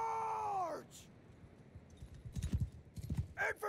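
In Mount & Blade II: Bannerlord, a horse whinnies briefly, then after a pause horse archers' hooves clatter in a quick galloping rhythm, moderately close, with a few sharp bursts near the end.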